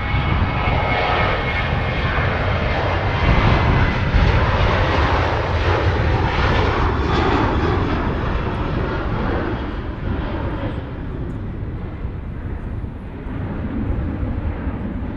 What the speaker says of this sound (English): Ryanair 73 now rolling